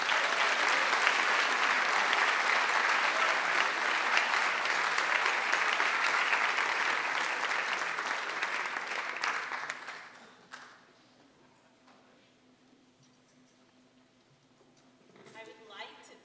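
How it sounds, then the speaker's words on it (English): Applause at a high school spring band concert, loud sustained clapping from a large audience for about ten seconds that cuts off abruptly, leaving a quiet hall with a brief murmur near the end. "Another round of applause, everybody."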